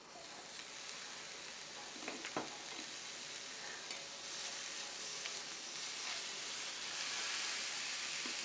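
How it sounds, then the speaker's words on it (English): Portobello mushroom caps and eggplant searing in a hot pan, a steady close sizzle and crackle running throughout with a few brief clinks and stirs, growing slightly louder toward the end. "I'm going to place them inside so you guys can hear that little bit of sear that's happening"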